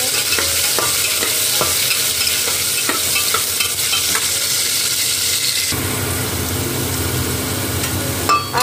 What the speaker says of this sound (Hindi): आलू भी फ्राई हो चुका है